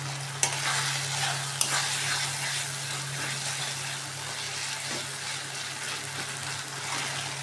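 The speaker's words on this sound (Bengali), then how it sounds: "তো এটা ভাজা হতে থাকুক।" Soaked chilli, cumin and turmeric paste frying in a pan for a meat curry hisses steadily up close, with two sharp utensil knocks near the start and soft stirring throughout, no talk.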